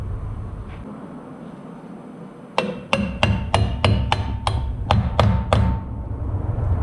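Sharp metallic hammer blows tap a pilot bearing into place on a Jeep Grand Cherokee ZJ during a manual transmission swap, about a dozen quick, evenly spaced strikes ringing close and loud over low background hum.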